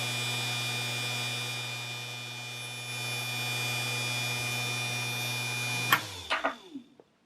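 Small electric motor running at 24 volts near 7,200 RPM, a steady close whine with strong tonal hum for about six seconds, then switched off and spinning down with a few brief clicks as it stops.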